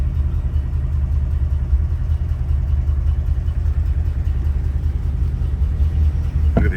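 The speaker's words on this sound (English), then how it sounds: "push the button. And she starts right up." A 1939 Ford Deluxe Coupe engine runs at a steady low idle, a continuous deep rumble heard close and evenly throughout.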